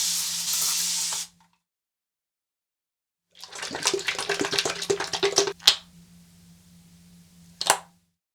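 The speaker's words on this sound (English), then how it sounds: "what I'm gonna do is wash off the alum with cold water" Cold water runs from a tap to rinse alum off a man's face after shaving, in short bursts of splashing and hissing flow separated by silence, with a couple of sharp taps at the end.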